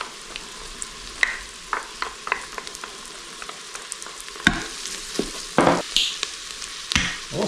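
Garlic and chilli frying in a pan for a Napoli-style tomato sauce, a steady sizzle broken by irregular scrapes and stirring knocks that grow louder toward the end; no talking.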